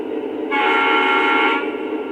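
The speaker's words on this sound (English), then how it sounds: "And now, let's see if the horn works." A LionChief Panama Canal Railway F40PH model train sounds its horn in one steady, bright, mid-pitched blast of about a second, loud and close, set against a low electronic hum.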